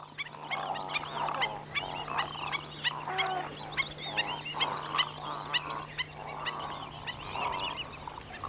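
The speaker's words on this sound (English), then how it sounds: "the waterfowl do what they do best, feeding on fishes trapped in the mud." A dense flock of whistling ducks and other waterfowl feeding in mud in the Llanos, honking and calling continuously, many birds overlapping at once, loud and close with no speech.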